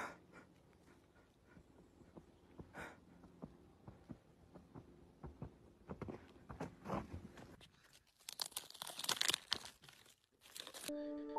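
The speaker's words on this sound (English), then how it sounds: "ominous rumbling footsteps can be heard approaching" Footsteps approach through a forest, caught on a trail camera: faint, scattered crunching and rustling of leaves and twigs underfoot, sparse at first and then sharper, louder bursts toward the end.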